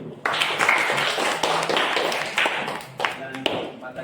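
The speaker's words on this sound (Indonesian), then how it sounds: "Sekali lagi kita berikan tepuk tangan." Audience applause closing a teacher-training module dissemination session: a sustained, dense patter of clapping from a room of people, with voices mixed in throughout.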